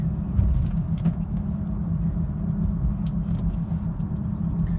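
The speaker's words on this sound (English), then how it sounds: "I'm going to show you how to rev up the car a little." A manual transmission car driven by an 18-year-old learner gives off a low engine rumble that holds fairly even throughout, with no clear rise in revs and no voices.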